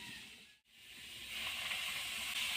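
A paste of poppy seed, onion and dried red chilli hits a hot pan and sizzles, a bright steady hiss that briefly dips almost to silence before swelling back louder and continuing, with no voices.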